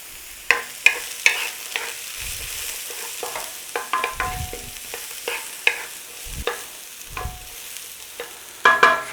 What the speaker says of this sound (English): It's just a little saute on those carrots.